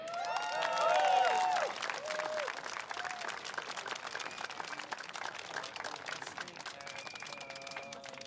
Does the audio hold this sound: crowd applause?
yes